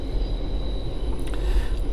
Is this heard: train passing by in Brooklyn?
yes